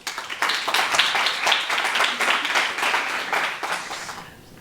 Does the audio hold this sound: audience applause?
yes